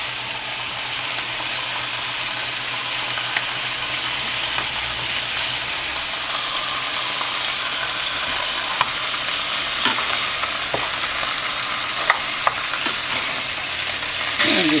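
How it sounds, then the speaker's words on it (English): Baby back ribs sizzle and fry steadily as they brown in a hot pan before pressure cooking, a loud, continuous crackling hiss with occasional pops and clinks. "Okay, we're getting some nice browning here."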